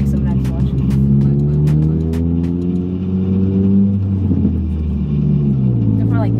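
A lowered stance car's engine drones steadily from inside the cabin, its pitch rising and falling through gear changes with uneven revs, while people talk over it.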